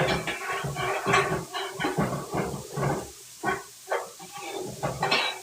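Vegan sesame peanut stir fry noodles with ginger, garlic, onions and scallion char and sizzle in a hot pan, a steady hiss with rhythmic bursts as the noodles are stirred and tossed.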